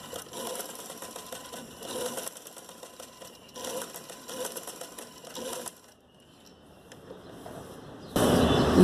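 A sewing machine runs in several quick bursts of fast rhythmic stitching, sewing lace onto a square neckline, with short pauses between runs and a louder rustle of fabric handling at the end.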